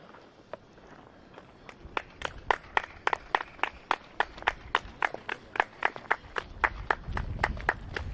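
Supporters clap in a steady rhythm at an alpine glacier trail race, a string of sharp, fairly close claps spaced evenly over several seconds, with a low rumble building near the end.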